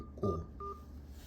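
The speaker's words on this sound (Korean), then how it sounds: "상대방 전화번호와 우물정자를 눌러주세요" Two short telephone keypad tones sound as a number is entered on a phone, a bright beep followed by a second one after a brief pause, heard clearly over a quiet background.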